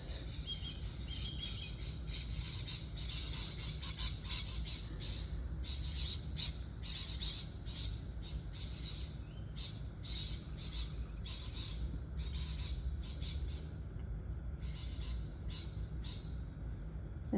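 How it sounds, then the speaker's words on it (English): Small birds calling in a garden, many brief high chirps repeating in irregular bursts throughout, steady and moderately near over a low background hum. "There's some little birds."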